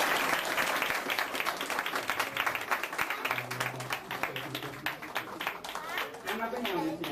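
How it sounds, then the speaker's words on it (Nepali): An audience at a Christmas church gathering claps together, with continuous applause carrying through the whole clip while voices and talk sound over it. "बाबालाई ताली बजाउँछु।"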